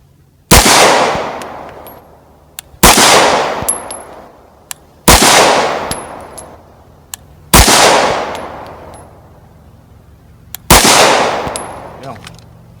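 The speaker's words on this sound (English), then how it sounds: "I'm going to start off with the P07, and we're going to start off from a double action standpoint." CZ P07 pistol fired at a shooting range, five loud sharp single shots spaced a couple of seconds apart, each with a ringing decay and a faint metallic clink afterward; no talking.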